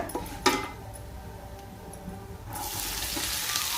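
Onions and curry leaves tipped into hot oil for a tempering, a sharp knock and quiet crackle at first, then a loud, steady hissing sizzle swelling up and continuing close by, with no talking.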